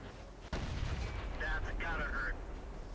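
A tank cannon shot from a Type 59 tier 8 premium medium tank fires in World of Tanks and hits an enemy: one sharp, heavy boom followed by a sustained rumbling tail and faint higher metallic ringing.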